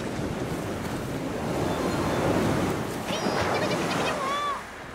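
Cartoon ocean waves at sea wash in a steady, loud broadband surf roar that swells and eases, with a few faint high squeaky sounds near the end.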